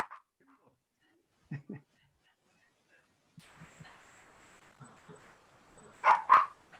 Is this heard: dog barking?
yes